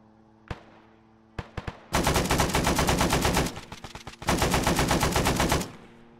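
An M60 machine gun in a video game fires a few single shots, then two long sustained automatic bursts separated by a short pause, loud and close.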